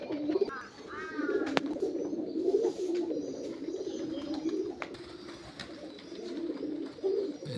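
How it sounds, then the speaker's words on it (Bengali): Pigeons kept under a roof keep up soft, low, repeated cooing, several birds overlapping at close range, with a few sharp clicks and a brief higher chirp early on. "এই দেখেন সব পায়রা সারাদিন ডাকতেছে।"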